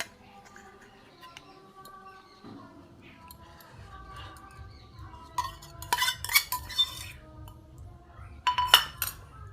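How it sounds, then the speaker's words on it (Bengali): Yogurt whisked in a metal bowl for palak chicken, with soft stirring scrapes and a few sharp clinks of utensil on bowl that grow busier toward the end, close and fairly quiet. "দইটা একটু ফেটিয়ে নিই"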